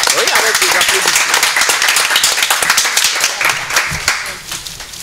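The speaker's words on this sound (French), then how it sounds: "Oui, avec des applaudissements." A talk show studio audience applauds as a guest is called forward, a thick run of clapping mixed with voices and cheers that stays loud and then thins out near the end.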